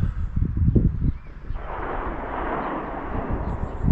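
Gunfire from a nearby shooting club: a rapid burst of muffled, distant bangs, followed by a long rumbling, rustling wash of noise with scattered faint reports, and no talk.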